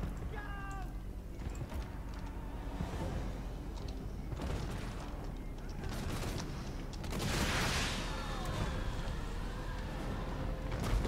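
Units fire in a Total War: Warhammer II battle, with scattered gunshot cracks and booms over a busy battlefield din, a heavier burst rising midway.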